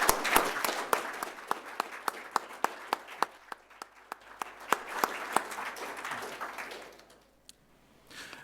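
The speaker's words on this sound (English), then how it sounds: "appreciate just how fantastic we think those scholars are with a quick round of applause" Sparse, scattered clapping from a small audience applauding scholars at a skills day, individual sharp claps standing out in a loose rhythm before fading away near the end.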